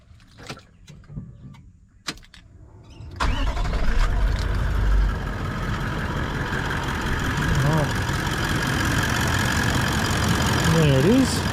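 A 2021 Toyota Land Cruiser 76 Series engine cranks and catches after a few quiet clicks and handling sounds, then settles into a steady, loud close-up idle with a fan whirring and brief voices over it.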